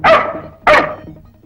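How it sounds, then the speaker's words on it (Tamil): A dog barks twice in quick succession, two sharp, loud barks about half a second apart with a short tail of room echo, heard alone in a domestic scene. "ஏன் உன்னை பார்த்து நாய் குலைக்குது அடிக்கடி"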